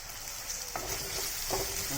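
Curry leaves, stems still on, dropped into hot oil for a Kerala fish curry, crackling and sizzling steadily with a couple of sharp spatters, close and loud with no talk.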